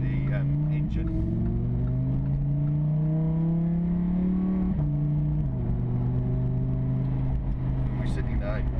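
Engine of a 2015 Lamborghini Huracán LP610-4 supercar while driving, a steady loud drone whose pitch climbs gradually then drops at gear changes, with someone talking over it throughout.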